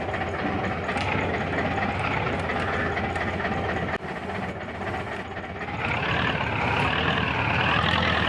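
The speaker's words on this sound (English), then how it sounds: "This tractor can barely pick it up." A tractor engine in the Farming Simulator video game on a frosty hard-economy Hinterland map, a steady rumbling drone that rises in pitch and loudness toward the end as it works under load, with no talk.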